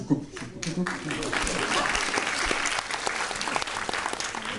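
Audience applause at the opening night of a Korean film festival in Paris, a full, steady burst of clapping from a large crowd sustained throughout, with a voice briefly heard at the start.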